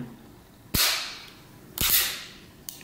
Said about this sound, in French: Il faut même un peu forcer quand on le ferme.